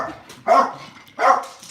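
Pet dogs give two sharp, fairly close barks about three-quarters of a second apart, with a quiet background between them.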